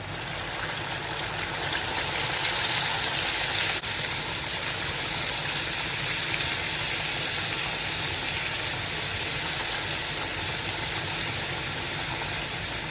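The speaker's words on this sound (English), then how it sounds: "while frying your plantain, make sure you are dropping them in the oil very gently" Spiced plantain slices fry in hot oil with a steady, dense sizzle and hiss that holds evenly throughout, close and fairly loud with no voices.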